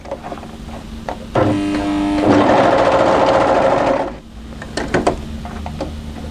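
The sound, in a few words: sewing machine sewing a tee dress seam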